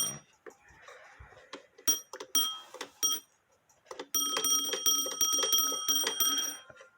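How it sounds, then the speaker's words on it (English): Bell of a postman's cuckoo-style clock alarm ringing, starting in short bursts then sounding as a steady continuous ring for the last few seconds, close and fairly loud with no talk. "And so when they set the alarm can't be shut off, and so it'll continue to ring."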